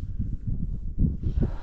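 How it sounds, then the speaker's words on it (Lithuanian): Cold wind buffets an observation tower, a low rumbling roar that surges and gusts unevenly close to the microphone. "tas vėjas, tai tu girdi tą vėją"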